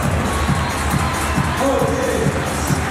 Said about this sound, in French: Applaudissements pour Marcel, Juste Vivo.